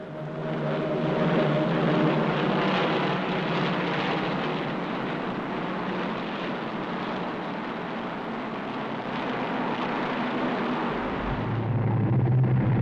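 Pre-war Hawker Hart and Fury biplanes performing aerobatics at a 1937 air show, a steady, loud propeller-engine drone that holds throughout with no voices, easing briefly near the end.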